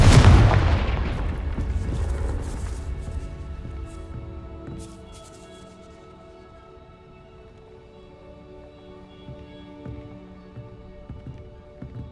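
A loud explosion from the Confringo fire spell in Hogwarts Legacy, set inside a castle gatehouse area, bursts with a heavy boom at the start and then rumbles and rings out slowly over several seconds, with faint scattered clatter afterward.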